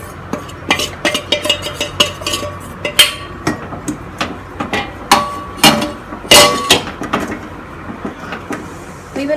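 Oats, desiccated coconut and maida being mixed into a cookie mixture for Anzac cookies, with repeated close knocks and clatters of a spoon against the pan in an uneven rhythm.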